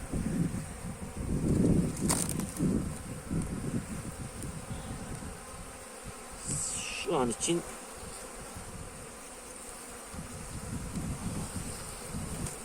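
Dense, steady buzzing of many honeybees at an open hive fills the air up close, with rustling, light wind and a brief voice speaking.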